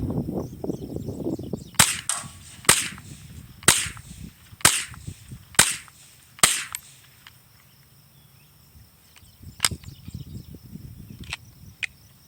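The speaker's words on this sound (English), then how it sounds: "I got one more loaded mag, so I'll fire these couple rounds off." A Marlin 795 .22 Long Rifle semi-automatic fires a string of sharp, close cracks at uneven intervals, with a few fainter shots near the end. Outdoor background hum and light rustling fill the gaps.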